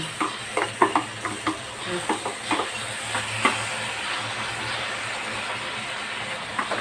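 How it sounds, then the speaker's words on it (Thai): Instant noodles and leftover dishes are stir-fried in a pan, with a soft steady sizzle and a run of sharp scraping and clacking stirring strokes that fade toward the end. "มาผัดใส่มาม่าแล้วนะ"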